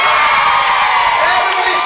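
A studio audience cheering loudly, a dense wall of shouts and whoops from a large crowd that stays steady throughout.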